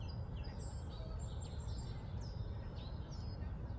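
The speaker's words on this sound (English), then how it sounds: "Perhaps it's birds singing," Faint high bird chirps and short song phrases repeat over a steady low outdoor rumble in a garden, distant and soft throughout.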